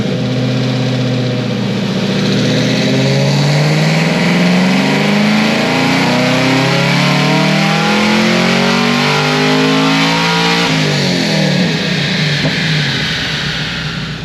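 Modified 5th-gen Chevrolet Camaro ZL1 making around 950 horsepower on a chassis dyno during a cold pull, its engine revving loud and close in a long rising sweep, then easing off near the end.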